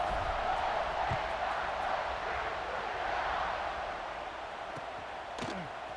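A stadium crowd in the College Football 26 video game, during an Ohio State online matchup, roars in a steady, dense wash of noise that fades slightly toward the end.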